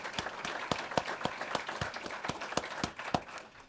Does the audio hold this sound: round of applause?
yes